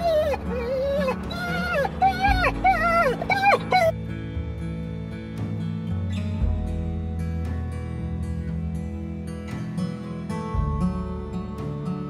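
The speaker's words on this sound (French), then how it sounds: "Le petit copain chien là-bas." Dog inside a campervan on a road trip gives high whimpering yips in quick bursts early on, close by, then falls quiet under a person talking and low road rumble.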